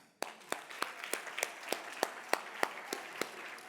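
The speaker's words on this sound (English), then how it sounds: "Let's clap it up for you." A single person clapping at a steady rhythm during a conference talk, about a dozen sharp claps in a row, close and clear against a quiet room.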